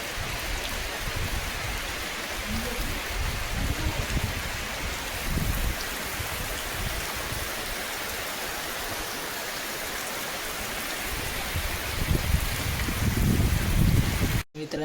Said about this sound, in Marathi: बघा पाऊस कसला लागता जरा जरा.